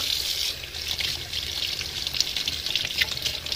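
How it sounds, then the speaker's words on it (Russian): Water drains from a soaking rug with a steady close trickling and splashing, constant and moderately loud, without talking. "Уже можно слить водичку и сполоснуть коврик."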